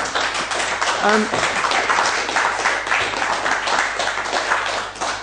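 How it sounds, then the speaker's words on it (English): A roomful of people applauding, steady dense clapping that fills the whole stretch, with a brief voice or laugh cutting through early on. "You can applaud again, actually."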